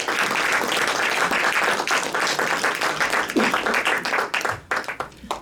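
A church congregation claps together in a sustained, dense round of applause offered in worship, steady and fairly loud throughout, thinning slightly toward the end, with a brief voice or shout breaking through midway.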